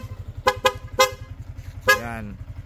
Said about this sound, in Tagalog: Tapos ang busina ay magiging Corsa horn na po.